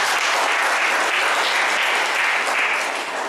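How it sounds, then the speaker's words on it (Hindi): A congregation at a Sunday evening church service claps for a message, a loud continuous wash of many hands clapping at once, even and close throughout. "क्यों ना ताली देते इस बात"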